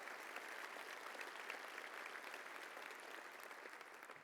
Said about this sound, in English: Please give them all a generous round of applause